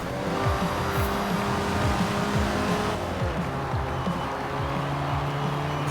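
A Citroen DS23 driven in Forza Horizon 4: a loud, close engine revs in repeated rising sweeps as it shifts through gears, with faint tyre squeal underneath.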